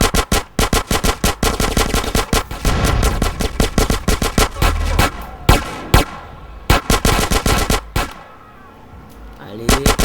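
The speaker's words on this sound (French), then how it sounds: "Vous entendez comment il tient en rafale." Rapid automatic gunfire bursts in the video game GTA during a police chase, loud repeated volleys of sharp shots with brief pauses between bursts, close and dominant.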